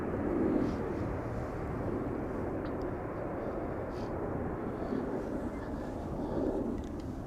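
A departing jet climbs away from Amsterdam Schiphol Airport, its broad engine roar steady and fairly loud throughout, swelling slightly at the start and end with no voices.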